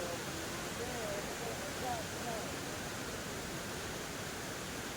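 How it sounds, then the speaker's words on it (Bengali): Kynrem waterfall in Meghalaya, India, pours from a great height as a steady, dense roar of falling water that fills the whole scene evenly, with no break and no talk. "এই যে উপরে দেখা যাচ্ছে কিন ড্রেম ওয়াটারফল"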